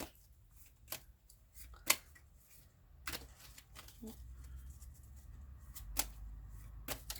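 Tarot cards shuffled by hand in a humid room, soft scattered riffles and sharp card snaps at irregular intervals, close and quiet with no talking.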